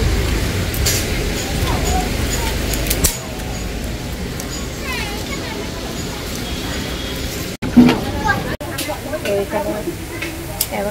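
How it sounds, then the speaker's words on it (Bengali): Puffed rice (khoi) frying outdoors at a wedding gathering comes through as a continuous sizzling, rustling hiss with stirring scrapes. Brief dropouts break it, and people talk in the background. "এখন খই ভাজা চলছে"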